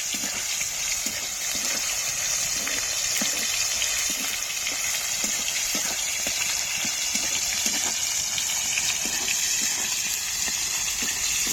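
Chopped tomato fries in hot oil for a Bengali soybean curry, giving a constant close sizzle dotted with small crackling pops throughout.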